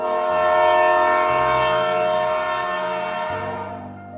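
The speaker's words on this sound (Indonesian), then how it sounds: "Pendolino sendiri adalah nama kereta ekspres yang beroperasi di Italia." An Italian Pendolino express train passes close and loud, its horn-like tones sustained over a rumbling rail body for about four seconds before easing slightly.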